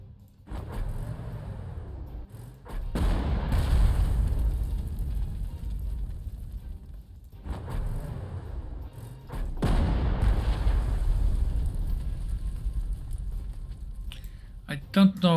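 Heavy artillery in Panzer Corps 2 fires in several long, deep, rumbling booms that swell and fade one after another, loud and close.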